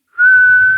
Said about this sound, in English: And there's a whistle that I don't like,